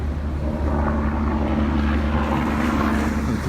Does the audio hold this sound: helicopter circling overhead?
yes